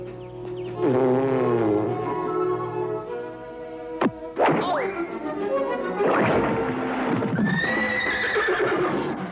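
A black stallion whinnies loudly several times, with rising and falling neighs and snorts between, and a voice speaking underneath.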